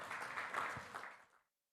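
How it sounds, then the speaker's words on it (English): A forum audience claps for a virtually present presenter at the Construction Innovation Forum, a steady faint round of applause lasting over a second before fading to silence. "Give him a round of applause."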